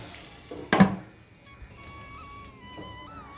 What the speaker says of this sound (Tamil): வெங்காயம் கொஞ்சம் நல்லா வதங்கி விட்டோம்